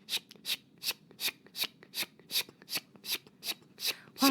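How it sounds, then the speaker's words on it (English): Scissors cutting long hair, a steady series of about a dozen crisp, snipping cuts in an even rhythm, close and clear with no talk. "because you'll know scissor noises"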